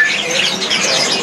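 Dense chorus of caged birds chirping and squawking at a bird market, a steady bright twittering that fills the whole moment with no voices.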